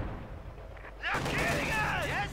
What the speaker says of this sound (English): going to take a few nasty hits there from the T-34